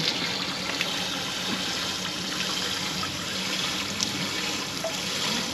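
Hot water runs from a tap in a constant, even rush, close and fairly loud, with no voices.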